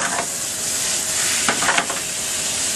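Onions frying in a pan for tomato sauce, a dense, even sizzle up close with a couple of brief stirring scrapes near the middle.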